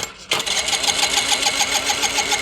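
A TVS Scooty Pep+ scooter's electric self-starter cranks the engine without it catching, a sudden, steady whirring grind that begins abruptly after a brief quiet and runs on loudly.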